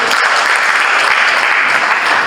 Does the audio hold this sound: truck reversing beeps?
no